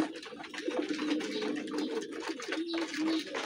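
Pigeons coo steadily in a loft where sky-blue pigeon chicks are hatching, several soft rolling calls overlapping at close range throughout.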